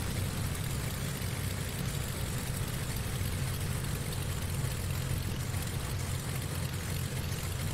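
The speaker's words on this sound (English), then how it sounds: "That thing sure does have a loud engine." Loud, steady aircraft engine roar drones continuously without a break, heavy and close, with no voices over it.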